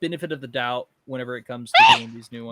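A single sharp sneeze bursts out in the middle of casual conversation between people talking.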